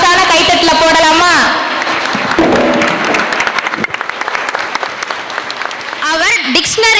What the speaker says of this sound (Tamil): டேலண்ட் டான்ஸருக்கு ஒரு மாசான கைத்தட்டல போடலாமா?